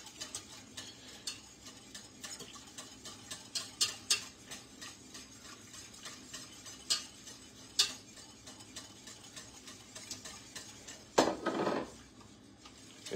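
Eggs whisked into warm milk in a pot, with rapid rhythmic metal tapping and scraping of the whisk against the pan at close range and one louder clatter near the end; no talking.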